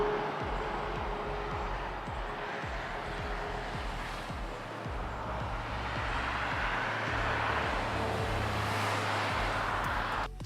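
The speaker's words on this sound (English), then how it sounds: "Playing forward, let's listen to this traffic." Recorded road traffic noise: a steady, continuous roar of passing cars with a broad rumbling low end and hiss, loud and unbroken throughout with no talking.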